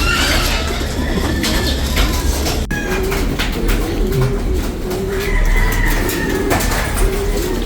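Pigeons coo in a loft, giving low, soft, repeated coos over a loud, constant rumbling background, with occasional clicks and flutters nearby.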